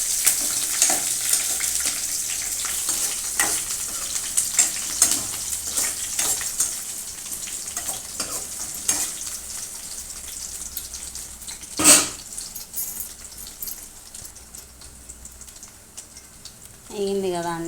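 Dried red chillies, onions and curry leaves fry in hot oil in a pan, a steady bright sizzle with occasional crackles and stirring clatter, close and continuous.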